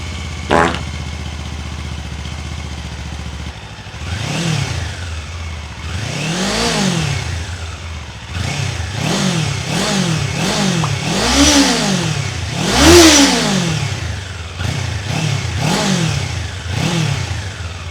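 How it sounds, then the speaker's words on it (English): A Kawasaki Ninja 500 parallel twin with a 180-degree crankshaft revs through its exhaust, starting with a steady idle, then giving a series of loud, close throttle blips that rise and fall one after another, several climbing higher. "that's what the engine sounds like, just your classic parallel twin with a 180-degree crankshaft"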